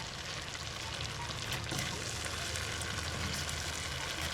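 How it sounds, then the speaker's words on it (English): Chicken frying in oil for Jamaican ackee and chicken, cooked in a backyard: a steady, dense sizzle and crackle that stays close and even throughout, with no voices. "Fry him to prettiness, you know?"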